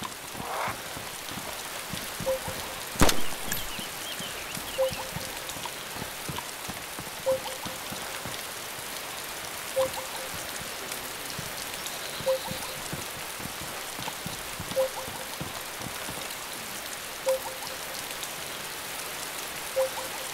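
Steady rainfall in the video game DayZ hisses continuously, with soft regular ticks recurring every couple of seconds in the background.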